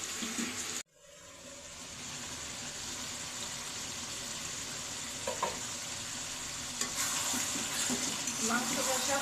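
Duck meat stir-frying in a pan gives a steady, close sizzle and fry noise with soft stirring scrapes, after a brief drop at the start.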